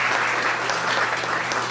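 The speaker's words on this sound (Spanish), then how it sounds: "Un aplauso." An audience claps steadily and densely all the way through at a solidarity conference with the Venezuelan people in Moca, Dominican Republic, with no pauses or voices.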